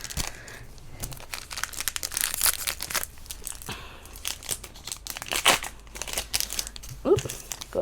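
A Magic: The Gathering booster pack from an Adventures in the Forgotten Realms draft box is handled up close: foil crinkles and crackles in short bursts, and cards rustle as they are flicked through, with some talking at times.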